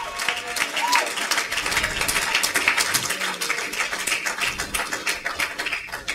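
A church congregation claps and acclaims together, a dense, steady wash of applause and crowd voices that carries through the whole stretch without letting up.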